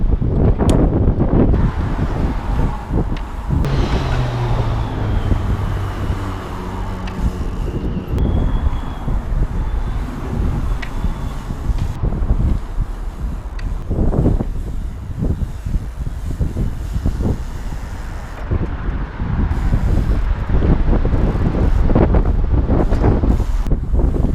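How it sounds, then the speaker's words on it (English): Strong headwind buffets the microphone throughout, a loud, steady roar of gusting wind noise with low rumbling bursts, heard alone without voices. "Pretty strong headwind on the go here."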